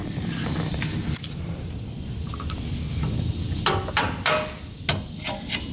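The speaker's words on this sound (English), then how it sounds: "So to remove these clips, we're just gonna go ahead and tap them out with a hammer." Sharp metallic hammer taps on Ford F150 parking brake clips ring out close by, a couple early and then a quicker cluster of strikes, over a quiet background.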